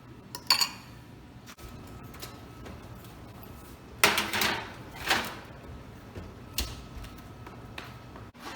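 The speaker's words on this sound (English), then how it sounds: "we're just going to go ahead and put this in the oven at 325 degrees for about 30 minutes or so" A granola tray goes into a home oven, with a few faint metallic clinks and rattles: a light tap early on, then a brief clatter and a second clink a moment later.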